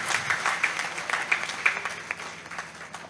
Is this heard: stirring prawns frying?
no